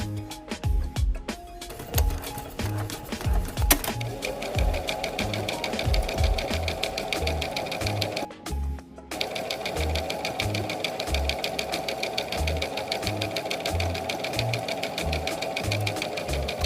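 Sewing machine stitching a ball gown, running in a loud, steady, close mechanical chatter that carries on almost without pause, with a brief dip partway through.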